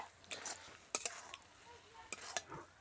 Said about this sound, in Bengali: আর যখন বাঁধাকপিগুলো ভাজা হয়ে যাবে তখন বুঝবেন কি করে একটু তেল ছেড়ে যাবে